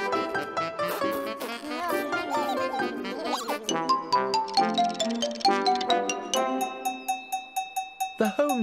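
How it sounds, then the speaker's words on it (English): A home time bell rings in a children's television garden setting, heard as a tinkling, chiming melody of bright bell tones in a steady rhythm, ending in a series of repeated high dings. "home time bell"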